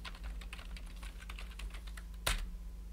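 Quiet typing on a computer keyboard as a command is entered, with a string of soft, close key taps followed by one louder keystroke near the end, over a low hum.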